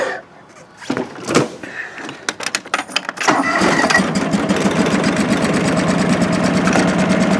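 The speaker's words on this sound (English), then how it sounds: "normally it starts up much faster than that, a higher idle" A John Deere 445 riding mower engine cranks through a series of uneven starter bursts, then catches and settles into a loud, steady idle close by.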